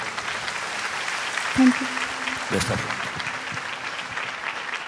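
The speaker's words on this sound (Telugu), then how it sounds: "మరొకసారి చప్పట్లు బిడ్డకు" Audience applauding a young singer at a televised singing competition grand final, sustained clapping from a crowd with a couple of louder knocks and a brief tone partway through.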